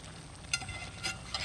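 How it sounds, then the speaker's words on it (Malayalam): Nadan chicken perattu cooking in coconut oil in its own released juices in a pan, giving a soft, steady sizzle with a few brief louder crackling bursts, no voices. "വെളിച്ചെണ്ണയിൽ കിടന്നാണിത് വേവുന്നത്"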